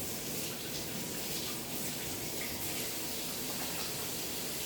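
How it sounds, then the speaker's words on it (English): Tap water runs steadily into a sink as hands are washed, a constant close hiss and splash with no pauses. "Let me go wash my hands."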